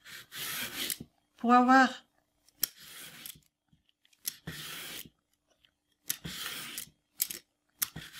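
A knife slices large carrots into long julienne strips on a cutting board, a series of separate rasping, scraping strokes of a second or so each with silent gaps, close up, and a brief spoken phrase early on.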